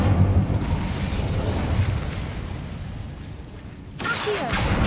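An Incendio fire spell in Hogwarts Legacy erupts with a heavy booming blast that decays into a rumbling roar, then a sharp burst of crackle follows, loud and close with no talking.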